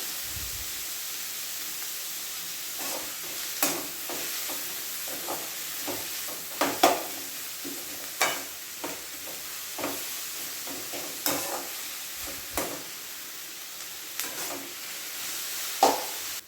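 Sliced onions with a pinch of salt sautéing in a pan, a low steady sizzle broken by repeated soft scrapes and taps of stirring throughout.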